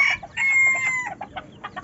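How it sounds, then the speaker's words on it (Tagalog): A large rooster being crossed with bantam hens on a gamefowl breeding farm crows once nearby, followed by short hen clucks in a quick uneven series. "Itong malaking tandang na to"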